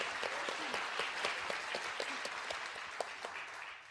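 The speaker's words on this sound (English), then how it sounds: "Give her a round of applause" A small live-music audience welcomes a singer-songwriter with a short round of applause, a fairly faint, even clatter of many hands clapping with no voices over it.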